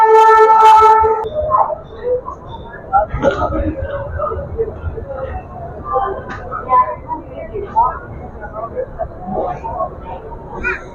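A train horn sounds briefly at crowded Gwalior railway station, followed by overlapping voices, announcements and rumbling train noise in the background.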